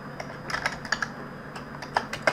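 Keys clatter on a computer keyboard while CSS code is typed, a run of light, irregular clicks with short pauses between bursts, close and fairly quiet with no talking.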